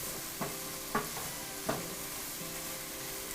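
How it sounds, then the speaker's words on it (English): A cup of shredded carrots cooking down in a pan for chicken teriyaki with rice and vegetables, a soft steady sizzle broken by three or four light knocks of a utensil stirring. "we're gonna add our carrots in there as well. Just a cup of shredded carrots. Same deal, we're just gonna cook them down a little bit."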